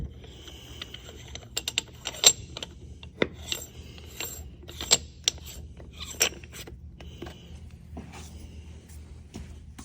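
Metal retaining rings for the hub of a 2024 Yamaha YZ450F flat-track motorcycle are handled on a workbench, giving scattered small clinks, rattles and taps, near and fairly quiet, with brief louder metallic knocks.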